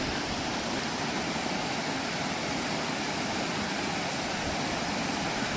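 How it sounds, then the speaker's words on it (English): A small waterfall water feature in Victoria Park pours steadily, giving a continuous broadband rush of falling water with no pauses or voices. "This is a little water feature here"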